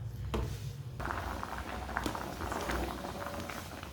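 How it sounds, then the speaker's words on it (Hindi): Potatoes half-boiling in a pot of water on a stove, a steady close bubbling and soft patter that runs the whole time, with a few faint kitchen knocks. "बस 2 मिनट के लिए बॉयल करना है।"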